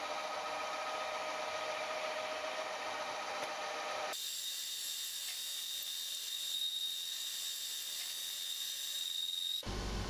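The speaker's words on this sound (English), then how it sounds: "I'm knurling this just so it's a little easier to hang on to screw it on and off that 1/2 inch 20 thread." Knurling tool pressing a fine pattern into a metal part on a lathe, a steady grinding, ratcheting whir that changes character abruptly midway and cuts off near the end, with no talking.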